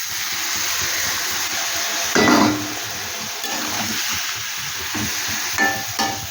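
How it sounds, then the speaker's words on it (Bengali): Water poured into a hot kadai makes a steady hiss and sizzle, swelling briefly in a burst before settling back into continuous bubbling and frying noise. "আমি অল্প একটু জল দিয়ে দেবো"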